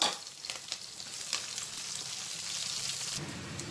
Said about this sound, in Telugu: ఇప్పుడు ఇందులోనే జీడిపప్పు వేసేద్దాము, అలాగే పచ్చిమిర్చి కూడా వేసేసుకోవాలి.